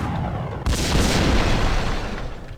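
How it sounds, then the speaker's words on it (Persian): A gunshot in the video game Max Payne: one sudden loud blast at about two-thirds of a second, followed by a broad booming rumble that lingers over continuous game background noise. "وقتی شلیک میکنیم"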